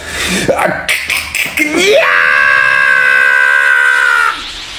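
A person imitates Gohan's scream from the Japanese version, starting with short broken yells that rise into a long, loud, sustained high-pitched scream held for a couple of seconds before stopping.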